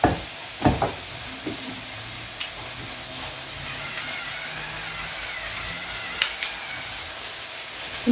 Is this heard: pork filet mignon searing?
yes